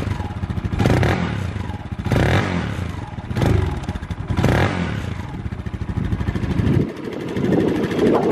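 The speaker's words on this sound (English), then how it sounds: "So yeah, that is the exhaust note." A CSC SG250 cafe racer motorcycle idles with a low, loud exhaust burble, broken by several short revs that swell and fall back about every second and a half, heard close and without talk.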